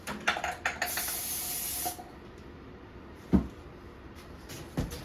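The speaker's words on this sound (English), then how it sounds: "now we clean the mating surface with brake clean and a clean rag" A long hiss of brake cleaner sprayed onto a rag, stopping after about a second, followed by a couple of faint clunks and a sharp knock, during clutch and flywheel work on a 2017 Honda Civic.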